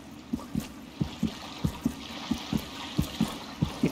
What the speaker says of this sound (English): It sounds like heartbeat.